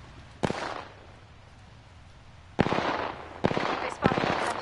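Gunfire in the shooter game Apex Legends: a single sharp shot, then after a quiet gap two loud rattling bursts of rapid fire, close and dense, with a player's voice faintly mixed in.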